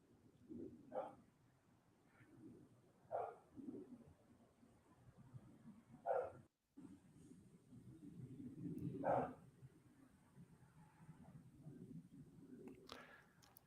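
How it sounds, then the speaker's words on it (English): A dog barking outdoors at night, a few separated barks spaced several seconds apart at moderate distance over a quiet, low background, with faint murmuring and rustling in between. "Sounds like a concerned bark."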